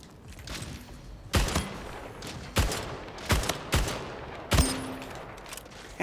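Gunshots in the video game Splitgate, five sharp, loud single shots spaced about a second apart over a low background hum.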